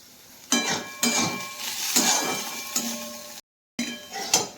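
Vegetables for chowmein, including soya and potato, frying in a pan: metal utensils clank and scrape against the pan in uneven strokes over a faint sizzle, with a short silent gap near the end.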